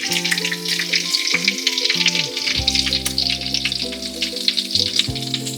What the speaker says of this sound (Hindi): इसके अंदर मैं कड़ी पत्ता डाल रही हूँ